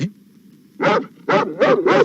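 Several dogs in a bungalow, the breeds including Doberman, Alsatian, Pomeranian, Dachshund and Bulldog, giving four loud, evenly spaced barks close by after a quieter low growl.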